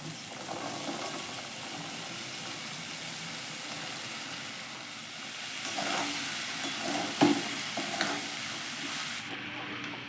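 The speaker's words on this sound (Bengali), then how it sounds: "মশলাটা কষে গেছে, এবার আমি ঘুগনির মটরগুলো দিয়ে দেবো।" Ghugni peas stirred into cooked spice masala in a pan, with a steady loud sizzle and hiss of frying and a few clinks and scrapes of stirring partway through.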